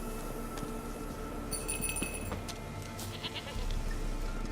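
A goat in The Witcher 3 gives short bleats over a steady game background of low ambient drone and faint clinks.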